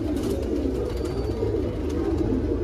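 Fancy pigeons, Rampuri and Saharanpuri breeds kept by a hobby breeder, coo softly and continuously in a low steady murmur close by, with no talk over them.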